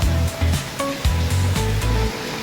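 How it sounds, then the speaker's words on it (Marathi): Sea waves roll in at Kunkeshwar beach on the Konkan coast on a rainy evening, a loud, steady surf roar with rhythmic surges. "कुणकेश्वर समुद्र."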